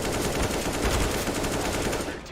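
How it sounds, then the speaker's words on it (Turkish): A sustained automatic burst from a CS:GO rifle emptying a full 30-round magazine, the shots packed into a loud, rapid stream that barely lets up before tailing off at the very end. "Harbiden 30 mermi gitti yani adamın üstüne."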